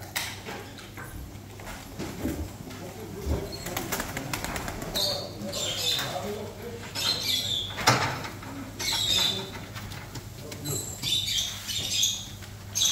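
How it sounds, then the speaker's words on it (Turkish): Birds, including pigeons, brought to an auction, with scattered chirps, coos and bursts of wing flapping at moderate distance, heard under intermittent talk and background murmur. "Bunlar da ihalemize gelen kuşlar arkadaşlar"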